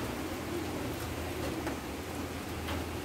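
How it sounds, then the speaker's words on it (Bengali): Rain pours steadily onto a village pond, a dense, even hiss of drops striking the water that holds the same level throughout, with no voices. "বৃষ্টি পড়েই যাচ্ছে বৃষ্টি"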